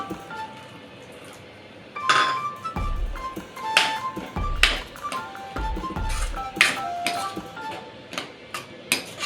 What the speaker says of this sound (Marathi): आणि मी आता ह्याच्यामध्ये मटार टाकते